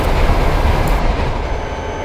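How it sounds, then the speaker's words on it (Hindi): A blue express train rolls past in Trainz Simulator 12 on an Indian railway line, a loud, steady rumble with rail clatter that fills the moment close by, no voices over it. "ब्लू ट्रेन है जो कि हमें टूनी स्टेशन पर ओवरटेक कर रही है"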